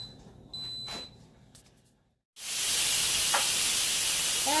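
Steam blasts out loudly and steadily as pressure is released from an Instant Pot cooking a vegan smoky butternut squash and apple soup, a continuous hiss that bursts in after a brief silence and holds to the end.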